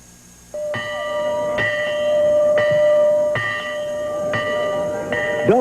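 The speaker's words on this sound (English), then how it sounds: "the silence broken by the solitary sound of a bell's chime" The Monon Bell, rung in the quiet Indiana countryside at dawn, chimes with about six loud, ringing strikes roughly a second apart, each one sustaining and overlapping the next, with no voices.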